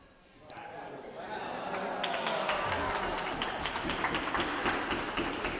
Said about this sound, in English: I think they're applauding because somebody caught the ball well.